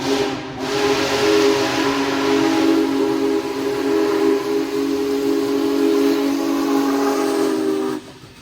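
The whistle of Big Boy 4014, a Union Pacific steam locomotive, sounds long and loud as the train rumbles past close by, the blast holding for several seconds before cutting off.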